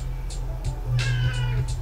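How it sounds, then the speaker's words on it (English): A house cat gives a few drawn-out meows, close and fairly loud, over a steady low hum in the room. "Kitty. Yep."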